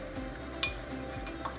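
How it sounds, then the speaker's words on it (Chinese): A spoon stirs honey and lemon juice in a glass at a coffee shop, making a soft steady swirl with a few faint clinks against the glass over a low background hum. "要先搅，把它搅匀。"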